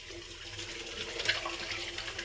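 Tap water runs steadily into a bathroom sink while a face is wetted before shaving with Earl Grey shave soap, a close, even splashing hiss throughout with no talking.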